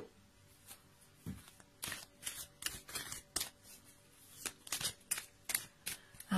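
Oracle cards being shuffled and drawn by hand, a run of crisp papery flicks and slaps in irregular bursts, close and fairly quiet, with no talking.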